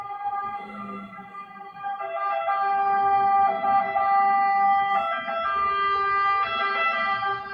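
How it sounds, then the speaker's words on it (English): An ambulance siren wails in repeating tones, swelling louder as the vehicle draws closer; no one speaks. "Y'all hear the ambulance."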